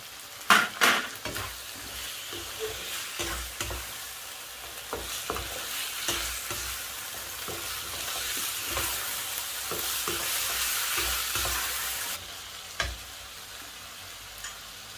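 Fresh shrimp stir-fried with sator beans in a pan over raised heat, a low steady sizzle broken by repeated sharp scrapes and clinks of a spatula, close and continuous with no talk.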